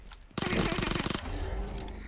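An Uzi submachine gun fires in PUBG Mobile, a tight, rapid burst of close shots lasting under a second, followed by quieter game noise.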